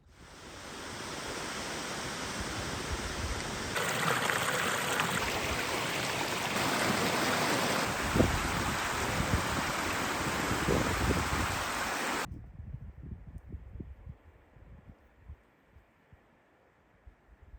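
Water at Aber Falls waterfall roars as a loud, broad steady rush for about twelve seconds before cutting to a quiet outdoor background with faint scattered sounds.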